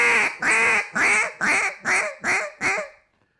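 Seven evenly spaced, raspy quacks from a duck call imitating loafing ducks, loud and close, in a steady descending cadence with short pauses between.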